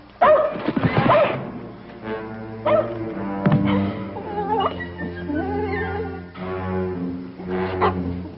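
A dog barks, yips and whimpers in short bursts with pauses, close by, some sounds rising into whiny, almost whinnying cries.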